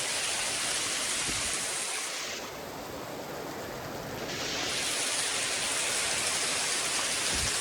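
Steady heavy rain falling continuously in a rural outdoor spot, a dense unbroken hiss that dips slightly midway and then returns, with no talk.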